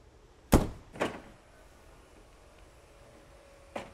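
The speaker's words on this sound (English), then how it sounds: "To use the door entrance lock and unlock feature" The entrance door lock of a 2024 Supreme Aire motorhome gives two sharp mechanical clunks in quick succession, then a softer third clunk a few seconds later, each close and distinct against quiet background.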